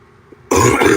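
A man gives a single loud, close cough after a moment of near silence, during a live stream about tobacco pipes.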